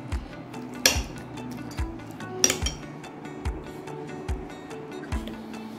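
Spoon clinking against a bowl in a kitchen while ginger-garlic paste is stirred into chicken marinated in yogurt, a series of light, close taps with two sharper clinks standing out.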